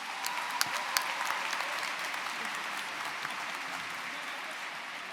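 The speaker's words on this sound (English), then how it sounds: "let's give them all a big round of applause" Sustained audience applause fills a college commencement ceremony, a steady wash of many hands clapping at even loudness with a few sharper claps standing out near the start.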